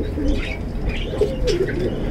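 Pigeons cooing softly as they sit eating grain beside a hen's chick, with low, continuous murmuring coos and a few brief chirps, close and fairly loud throughout.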